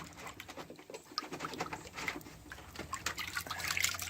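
An old refurbished axe is sloshed in a soapy water wash bath, giving close, irregular splashes, drips and trickles that stay soft and continuous.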